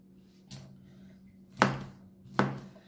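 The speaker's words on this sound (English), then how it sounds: "So we're just gonna chop all of that up." A knife chops onion and cabbage on a board, three separate cuts spaced about a second apart, close and crisp against a low steady hum.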